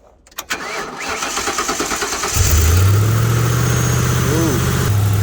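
An old sheriff police car, a Crown Victoria with a leaking exhaust, cranks over with several rhythmic starter whirs, then catches into a loud, rough, steady idle close by, with a brief voice over it.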